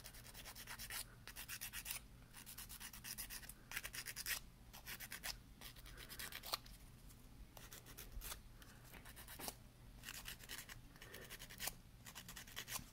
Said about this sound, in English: I'm going to gently rough up the nail.